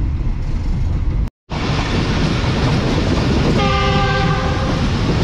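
The Karakoram Express rumbles loudly and continuously along the tracks, passing Shahdara Bagh Junction station without stopping, and a horn sounds briefly partway through.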